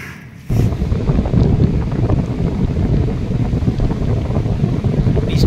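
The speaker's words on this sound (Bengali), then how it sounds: "জোরেই বৃষ্টি পড়ছে।" Heavy rain falls outside a tent on a windy seacoast, heard from inside as a loud, dense, continuous roar that starts suddenly after a quiet moment and stays steady throughout.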